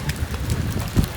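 Heavy rain pouring outdoors during a downpour, a steady broadband wash with a louder gusty swell near the end, no voices present.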